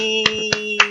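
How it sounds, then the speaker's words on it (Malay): Three sharp hand claps at an even, unhurried pace, close and distinct over a steady electronic tone during a PowerPoint quiz game. "Kalau betul tepuk tangan."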